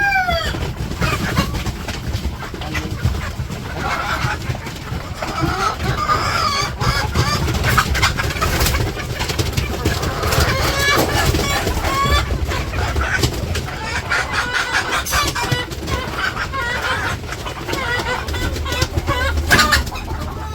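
Many chickens cluck continuously on a village farm during egg collection, a dense and fairly loud chorus with occasional louder calls throughout.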